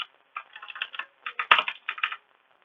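Code being typed on a computer keyboard: bursts of quick, close key clicks in short runs with brief pauses, one louder keystroke standing out midway, no talking.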